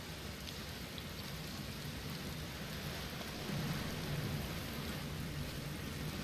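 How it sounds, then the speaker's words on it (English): Steady rain with a deep rumble of thunder swelling midway through, heard on a watery planet in the video game Outer Wilds; a constant, enveloping wash with no voices. "Okay, well, it's raining."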